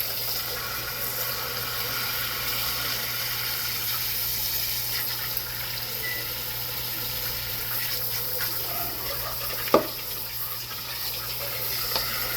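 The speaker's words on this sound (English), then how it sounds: "Rinse that chicken off." Steady tap water running in a kitchen sink while raw chicken is rinsed, a continuous close hiss with a brief clatter near the end.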